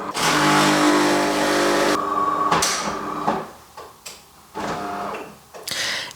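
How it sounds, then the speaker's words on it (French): A home coffee machine whirs loudly and close, then cuts out and is followed by a few short clunks and bursts of mechanical humming as it powers down. "Ma machine à café s'éteint."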